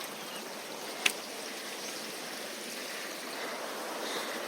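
A creek running after rain, a soft steady wash of flowing water with one brief sharp knock partway through and no talking.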